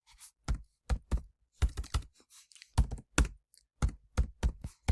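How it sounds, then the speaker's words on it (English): Slow one-finger typing on a computer keyboard, loud close key taps landing singly and in short irregular bursts with brief pauses between them, no talking. "One finger typing is a pain"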